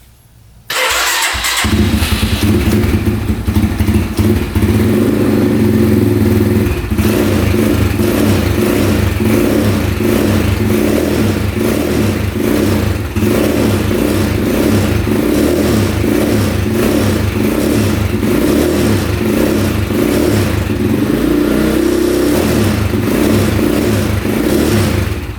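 A brand new dirt bike engine on a choked carburetor catches after a few cranks, then idles and revs steadily, loud and close, with a rhythmic thumping exhaust pulse continuing throughout.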